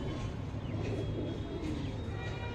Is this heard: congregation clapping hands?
no